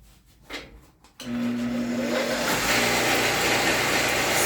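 A PG polishing wheel spins up from quiet and then grinds steadily against a barbecue knife blade, taking out scratches. It is a loud, continuous motorized whine with a rough buffing hiss, close up, and there is no talking.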